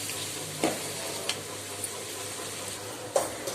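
Oil sizzles steadily in a pan as onions and tomatoes sauté, while a utensil scrapes and stirs now and then, with a few sharp clinks.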